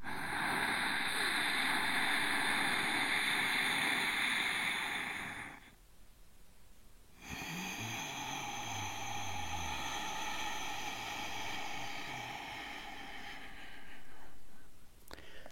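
Restricted breathing through the nose makes a soft, oceanic whispering rush, a long airy inhale, a brief pause, then another sustained breath, close and quiet.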